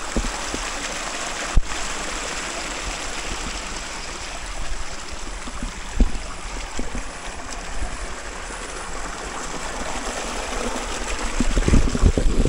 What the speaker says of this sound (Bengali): এই যে জিরির পানি